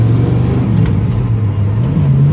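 A 1970 Pontiac Trans Am Ram Air III V8 idling with a low, steady rumble as the worn clutch is engaged into first gear, the engine note dipping slightly then rising, loud and close with no talk.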